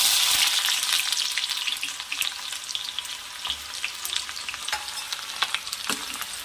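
Chopped onion frying in hot oil with mustard seeds and cumin for zunka, a bright steady sizzle with crackling pops and occasional stirring scrapes, close up and without voices.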